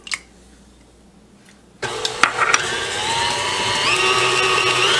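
An electric hand mixer kicks on abruptly after near silence and whirs steadily and loudly while beating chocolate pie filling in a bowl, with a few clunks as the beaters knock against the sides.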